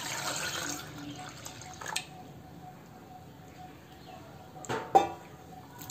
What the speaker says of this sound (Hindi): 400 ग्राम दही में आप याद रखें 3 गिलास पानी डालना है